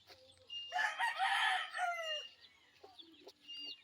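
Young pet chicks in a cage give out loud, shrill peeping and chirping calls, a busy burst of cries followed by a few quieter chirps.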